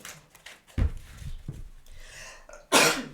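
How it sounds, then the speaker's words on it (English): After some sharp breaths and nasal sounds, a loud, abrupt sneeze bursts out near the end, close to the listener. "Uh-oh, I'm going to sneeze."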